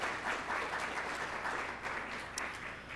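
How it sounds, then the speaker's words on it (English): Applause from the audience at a Columbus Metropolitan Club forum, steady, fairly faint clapping heard from a distance that holds evenly for a few seconds. "One more round of applause for our forum partners."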